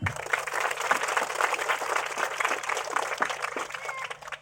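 A crowd at a motivational speech event in Chintapadu gives sustained applause, steady dense clapping filling the whole stretch at a fairly loud level.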